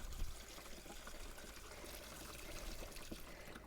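Water flushes and trickles through a toilet cassette, a steady, fairly quiet pouring stream with no voices.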